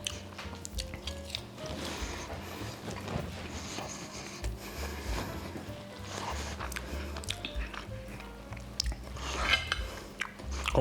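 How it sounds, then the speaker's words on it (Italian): Close chewing and biting of a meat egg with crispy pancetta, wet crunches and squishy bites repeating irregularly at close range with no talk. "Pancetta buonissima, croccante."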